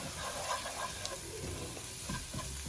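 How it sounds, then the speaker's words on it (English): Chana chaat is stirred in a cooking pot, faint scraping and soft clinks over a gentle sizzle, low and close with no talking. "Uncle, give it a stir."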